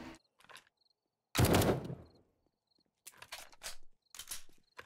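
Gunfire from a firefight against a zombie horde in the video game 7 Days to Die: a sustained loud burst of rapid shots, then after a pause several more clusters of shots, with faint insect-like chirps in the quiet gaps.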